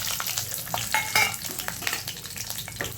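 Grated or sliced coconut frying in hot oil for a crispy corn chivda, a steady close sizzle with scraping stirs and small crackles throughout, no talking.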